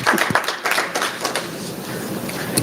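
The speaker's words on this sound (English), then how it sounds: "Let's give them another round of applause, please." An audience claps for students in a school district meeting room, a dense close burst of many hands clapping continuously, loud and without talk.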